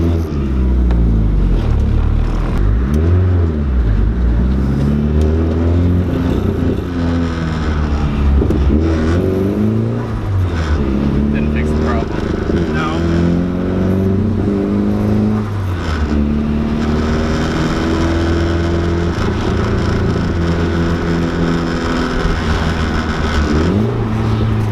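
A Nissan SR20 engine with a throttle position sensor fault runs and revs loudly and steadily, pitch rising and falling through repeated throttle swells during a drive, with a lean idle and break-up near 3,000–4,000 RPM.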